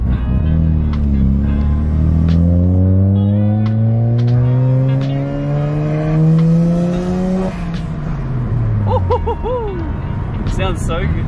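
A Mazda FD RX-7 with a rotary engine on stock turbos drives along, its engine revving up loudly through the gears with rising pitch, then easing off with turbo whooshes and flutter; someone talks over it.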